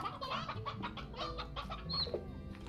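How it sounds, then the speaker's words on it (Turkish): Chickens cluck in quick, choppy bursts around a farm pen in the ranching game Slime Rancher, several hens close by with a sharper squawk near the end, quiet overall and without voices. "Çok fazla tavuk olmasın burada."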